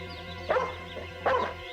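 A dog in a home lets out two short barks about three-quarters of a second apart over a steady low hum, moderately loud and close.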